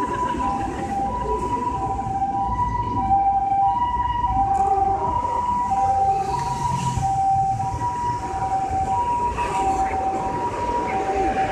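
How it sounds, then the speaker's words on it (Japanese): A two-tone ambulance siren wails repeatedly at a steady pace over a background of traffic and crowd noise, fairly distant. "救急車が"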